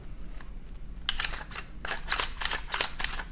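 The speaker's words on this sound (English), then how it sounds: "I'll go ahead and charge it a couple times for you" An AR9 pistol caliber carbine's charging handle racked several times with the magazine removed, sharp metallic clacks and slides in quick succession, close and clear over a low hum.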